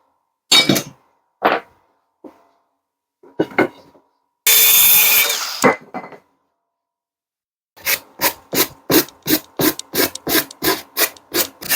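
Hand sawing through wooden boards for a trebuchet: scattered rough strokes, then a steady run of about a dozen evenly spaced back-and-forth rasps, close and fairly loud.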